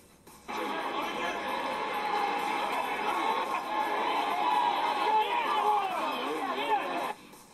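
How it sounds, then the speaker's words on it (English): A boxing crowd roars and chatters in an arena, a broad sustained wall of noise that swells in and holds steady for several seconds before cutting off, with a commentator-like voice running over it. "The crowd roared with each lightning-fast combination."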